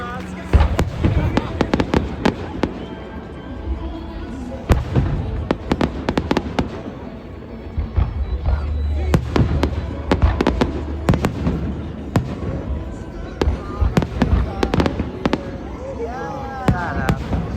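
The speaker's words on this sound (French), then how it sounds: "Non, j'ai jamais vu un beau feu de même." A rapid series of firework explosions at Stanley Park, with frequent loud bangs and crackling bursts over steady crowd noise and nearby voices talking.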